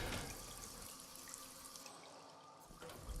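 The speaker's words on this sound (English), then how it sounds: "The guard successfully hears the running water and investigates" Water runs from a clogged sink in the Hitman video game, a faint, steady trickle and splash heard quietly and alone.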